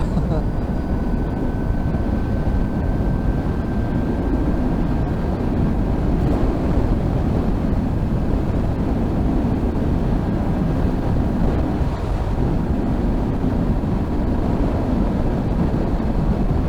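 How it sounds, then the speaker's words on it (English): A BMW CE 04 electric scooter at speed under full throttle, buried in a loud, steady roar of wind rushing past the rider's microphone, with a faint thin motor whine fading early on. "give the throttle a good twist and see what happens"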